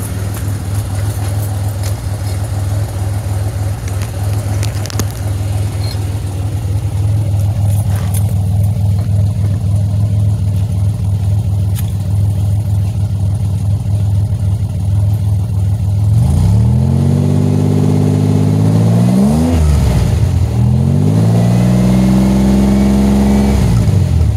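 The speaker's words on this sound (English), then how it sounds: "let's go see if we have any smoke when I rev it" A supercharged car engine idles steadily, then is revved hard twice near the end, rising to a loud whining roar and dropping back between the blips, heard up close.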